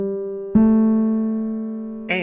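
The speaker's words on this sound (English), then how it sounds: "Whole steps sound like this." Two sustained musical notes, one after the other, the second a step higher, each ringing clearly with a soft attack and slow fade.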